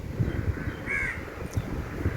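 Crows caw while being fed old rice outdoors: a few short, harsh caws over soft background noise and faint low knocks, fairly close.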